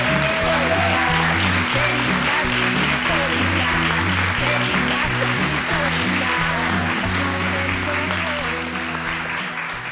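A podcast studio audience gives loud, sustained applause that fills the room without pause, with music playing strongly underneath.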